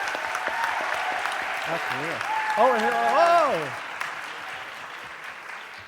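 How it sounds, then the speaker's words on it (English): An audience at a pitch competition applauds and cheers for an applause-o-meter test, a steady wash of clapping with voices exclaiming and whooping over it before it fades. "let's test out our applause-o-meter for"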